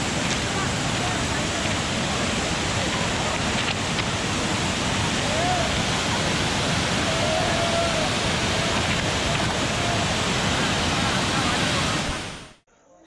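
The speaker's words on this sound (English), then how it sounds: "So just after this tunnel, we'll be having a view of a Dudhsagar waterfall" Dudhsagar waterfall during the rainy season, near a railway tunnel, heard as a loud, continuous roar of falling water with some wind buffeting, unbroken for about twelve seconds before cutting off abruptly.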